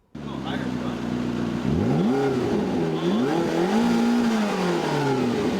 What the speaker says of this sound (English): pressing on the gas and the sound of the engine